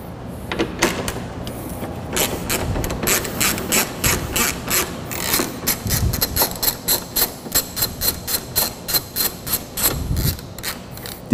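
Power tool driving screws on a Lexus RC300 front bumper: rapid, rhythmic clicking bursts, close and fairly loud, repeating in quick runs with short pauses between.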